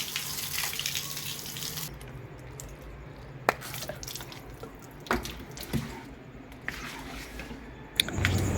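Water splashing and slopping across a house floor during a wet cleaning, with continuous running water broken by several sharp splashes and knocks, close and moderately loud, no voices.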